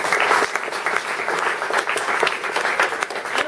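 Applause from a small audience at a public information night in Toronto on ranked ballots, steady dense clapping throughout, moderately loud and close.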